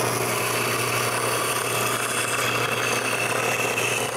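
A homemade wooden band saw cuts a wooden wheel, giving a loud, steady motorized whir with a constant low hum underneath, unbroken and even for the whole stretch with no voices.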